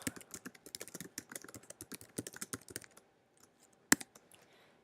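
Someone types a message on a computer keyboard in a rapid run of close, crisp key clicks for about three seconds, then a few scattered taps and one sharp louder click before it goes quiet.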